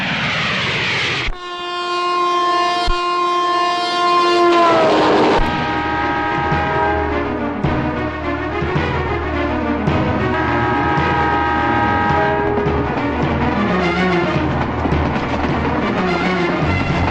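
A train rushes close by with a loud, sustained horn blast, then a heavy rumble and clatter of wagons that continues steadily until the end.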